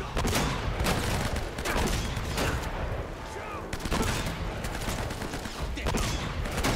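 Heavy shotgun blasts and other gunfire crack repeatedly through an Uncharted: Drake's Fortune firefight, loud and dense with recurring bursts under occasional talk.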